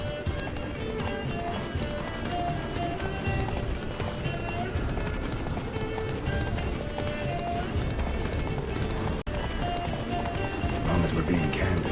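Roach, Geralt's horse in The Witcher 3, gallops with a steady clip-clop of hooves running beneath a dense game soundtrack, with a voice talking over the hoofbeats.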